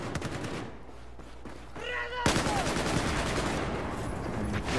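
Rapid gunfire from an AK-12 in a Battlefield 4 match, sharp bursts close by with a loud volley near the middle and a faint voice and game chatter underneath.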